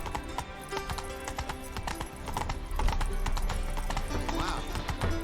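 Horse hooves clip-clop at a gallop in The Witcher 3, a steady rapid rhythm running throughout with game music and ambience beneath, a brief whinny near the end.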